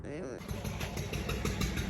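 A water-pump engine starting and chugging on a farm to irrigate fodder crops, a steady mid-pitched motor rumble running throughout at a moderate distance.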